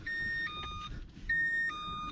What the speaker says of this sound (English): why is the car beeping at me now?